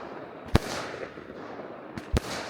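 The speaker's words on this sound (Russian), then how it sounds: "Такой салют нам устроили." Fireworks salute bursting outdoors at a taiga riverside camp on the Putorana Plateau, Siberia: two sharp, loud explosive bangs about a second and a half apart, the second with a quick double crack, over quiet outdoor background.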